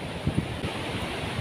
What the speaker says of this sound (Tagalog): Araw-araw po yan, ganyan yan yung alon na yan.